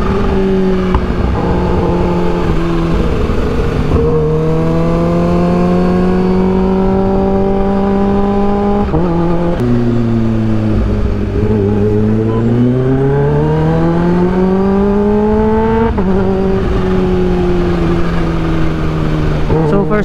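A 2015 Kawasaki H2 supercharged motorcycle revs loudly while riding, engine pitch climbing through gears in long sweeps with brief dips at shifts, continuous and close throughout.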